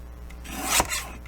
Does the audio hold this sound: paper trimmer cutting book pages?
yes